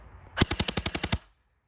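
A CYMA CM048 AK74 airsoft gun fires a short full-auto burst of about nine rapid, evenly spaced shots in under a second. The shots are close and loud, followed by quiet.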